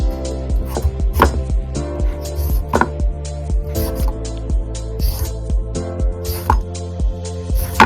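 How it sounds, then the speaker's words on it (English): Potatoes being skinned for a curry soup, a series of close, crisp rhythmic scraping strokes repeating every half second or so, loud and alone. "So we're gonna start by skinning our potatoes."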